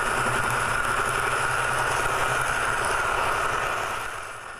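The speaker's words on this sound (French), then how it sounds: "le 12 cylindres est juste derrière nous et il donne plein pot, c'est 825 chevaux" A 12-cylinder 825 hp engine running at full power just behind a vehicle cab, a loud steady droning roar that eases slightly near the end.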